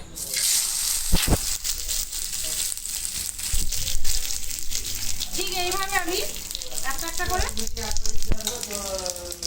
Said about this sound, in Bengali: ওদিকে তাওয়াতে ভাজা হবে